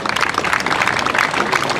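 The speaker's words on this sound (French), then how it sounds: "On applaudit chaque joueur" A crowd applauds players being introduced at a 2014 opening ceremony: dense, continuous clapping from many hands, loud and sustained with no gaps.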